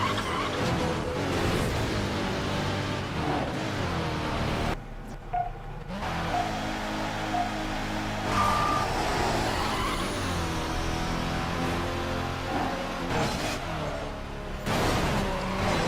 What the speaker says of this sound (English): So I've got a Lamborghini, another Pagani Zonda, and a Merc CLK GTR as my opponents here